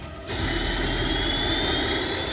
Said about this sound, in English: we ran out to the helicopter and got ready to fire it up